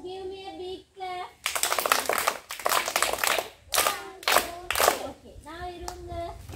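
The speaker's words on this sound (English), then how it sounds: "Give me a big clap." A class of children claps together in bursts of broadband clatter, several rounds of applause lasting about a second each, with a teacher's voice speaking between and over them.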